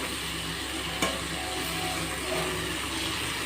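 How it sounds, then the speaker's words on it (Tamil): A banana flower stir-fry with spice powder is stirred in a pan, giving a soft steady sizzle with scraping stirs and a single light clack near the start, close and without talk. "நல்லா கிளறி விட்டலாம்"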